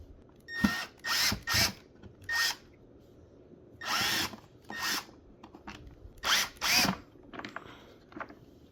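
Several short bursts of a power drill whirring as it removes screws from a Bissell Powerforce Helix vacuum, spinning up and stopping in quick succession, close by with quiet pauses between.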